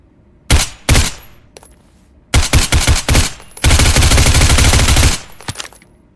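Gunfire at practice targets in the Ground Branch VR shooting game: a few separate shots, then quick close bursts and one long sustained run of rapid fire, loud and near, with silent gaps between.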